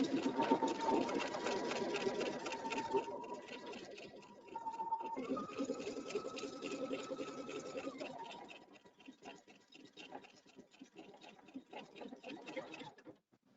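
An embroidery machine stitches a satin line on a cupcake design, rapid even needle chatter with a whining motor tone, fairly quiet and close, slowing and fading out near the end.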